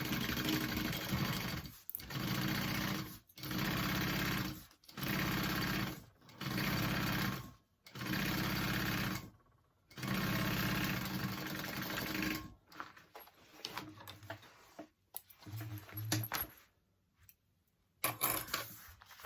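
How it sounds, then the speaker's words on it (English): A sewing machine top stitches a seam on a handbag, running in several steady bursts of a second or two separated by short pauses, then giving way to quieter handling and rustling of the fabric near the end. "so sew over that at a 1/4 inch seam allowance as well. And then you're going to take it and flip it up and top stitch it"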